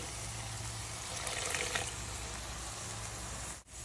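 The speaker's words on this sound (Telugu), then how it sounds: "ఈ గసగసాలు మసాలా ఉడకాలంటే కొంచెం నీళ్ళు వేయాలి" Water is poured into a pan of egg curry with poppy seed masala, a quiet, steady trickle over a low background hum.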